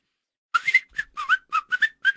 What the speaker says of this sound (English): Very loud, very, very insane whistle.